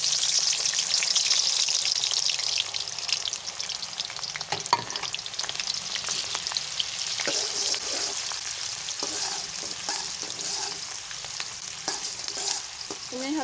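Sliced onions sizzle and fry steadily in hot ghee in a wok-like kadai while cooking sohanjna gosht, a continuous loud crackle with occasional stirring clatter and no talk.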